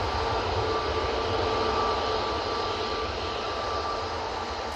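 Jet aircraft engine spooling up at Manchester Airport, a broad continuous roar heard steadily for the whole stretch, fairly distant with no talk over it.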